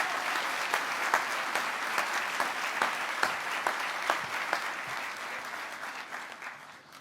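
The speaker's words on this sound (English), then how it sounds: "So please give them a round of applause too." A crowd applauds steadily at an awards ceremony, dense clapping held at full strength for several seconds before tapering slightly toward the end, with no one speaking over it.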